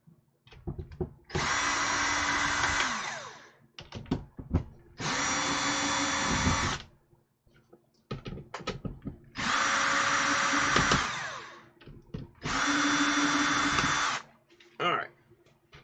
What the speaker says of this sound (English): grab the drill